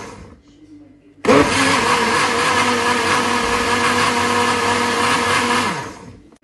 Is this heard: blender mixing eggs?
yes